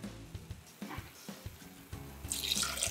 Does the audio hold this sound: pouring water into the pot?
yes